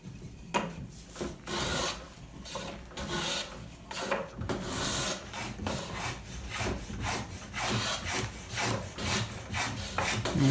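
A cooper works the edge of a wooden barrel stave with a hand tool, producing rhythmic, close rasping and scraping strokes that repeat steadily along its full length, with no talking.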